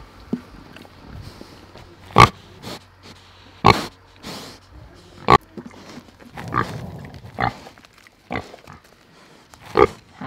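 Pigs grunting from a hay-bedded shelter pen in snowy Canadian winter, a series of short, fairly close grunts and snorts spaced irregularly, with quieter rustling between them.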